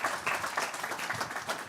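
A conference audience applauds with dense, continuous clapping from many hands. It is moderately loud and sounds somewhat distant, filling the whole moment with no clear voice over it.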